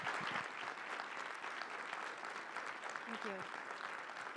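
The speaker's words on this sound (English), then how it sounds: "we have one more round of applause for Drew" An audience at a health policy forum keynote gives steady, full applause. A voice briefly says thanks partway through.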